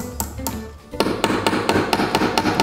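A hammer drives nails while furnishing a home: loud, close, sharp strikes come in a steady run of about a dozen blows, after a brief pause near the start, with no talking.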